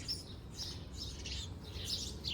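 A small garden bird chirps in quick, repeated high bursts, fairly faint and slightly distant, against quiet outdoor background noise.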